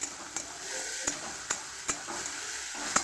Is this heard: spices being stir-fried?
yes